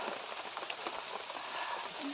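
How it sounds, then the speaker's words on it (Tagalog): Steady rain falls and patters densely on surfaces nearby, a constant loud hiss with no pauses throughout. "ayan umuulan na talaga mga idol"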